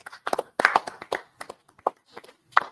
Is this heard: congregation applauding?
yes